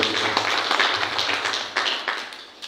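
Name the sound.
audience applause at an assembly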